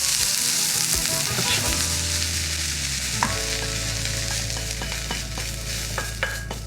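Onions for ajiaco sizzle steadily in a hot pan while a utensil stirs them, scraping and knocking against the pan in a few distinct strokes. The hiss stays close and continuous, with no talking.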